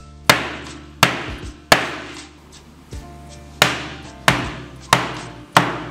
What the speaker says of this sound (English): Let's go ahead and hit it with a hammer.